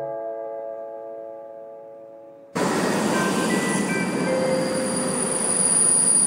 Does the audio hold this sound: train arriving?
yes